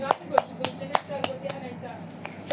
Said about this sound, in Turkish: Hadi alkışlayın.